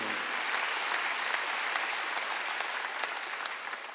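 A congregation at a Wednesday church service claps together, steady and continuous, heard from inside the sanctuary and fading slightly toward the end.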